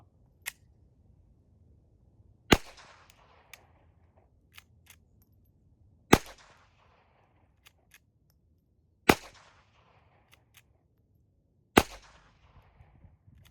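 Gunshots fired with Winchester White Box ammunition, four loud single reports spaced a few seconds apart, each with a short decaying tail, plus faint clicks in between.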